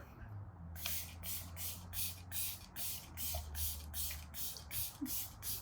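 A sealed, oxygen-sealed microfine mister spray bottle releases a steady series of about a dozen quick, soft hissing puffs of face mist, evenly spaced and close, with faint background hum.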